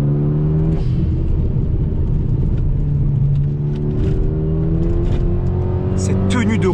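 A Renault Megane 2 RS R26 with a dump valve and a small K&N filter, on a Cup chassis with short springs, hums steadily at cruising revs with a droning engine note, then revs up and releases near the end under speech.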